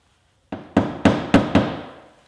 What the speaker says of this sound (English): You don't need too much weight behind the hammer,